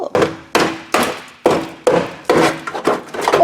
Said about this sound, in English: did you just like literally hammer a hole through it?